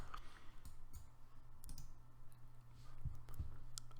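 Mouse clicks in a Planet Zoo game menu, a few sharp isolated clicks spread across the clip over a steady low background hum, with no talking.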